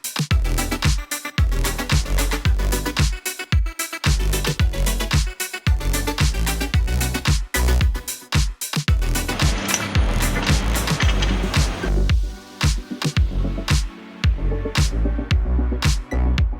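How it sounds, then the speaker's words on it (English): Leaf-clearing machines at work in a residential neighborhood, a loud, continuous mechanical roar with rapid repeating pulses and bursts throughout, close and dominant with no voices. "I apologize for the noise, but they're cleaning up leaves here in this neighborhood."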